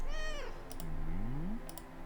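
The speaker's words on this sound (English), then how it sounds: "I petted the cat" A cartoonish cat in a Brackeys game jam indie pizza game meows twice when petted, the calls rising and bending clearly over a soft, steady game backdrop with faint clicks.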